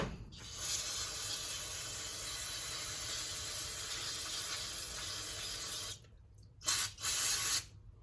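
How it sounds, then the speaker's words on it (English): A long, steady aerosol spray of brake cleaner onto automatic transmission parts hisses for several seconds, cuts off, then returns in two short bursts. "So I'm gonna spray these off over here."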